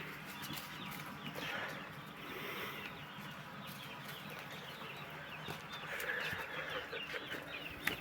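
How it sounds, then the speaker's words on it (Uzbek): Chicks in a coop on a small poultry farm, a soft busy mix of cheeping and clucking at moderate distance, continuous and fairly faint, with no one talking. "Mana bu jo'jalarimizni katagi."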